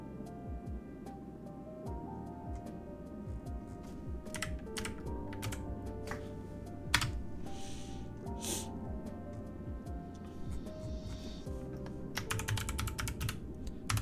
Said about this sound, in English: I'm so sick of typing egotistical bank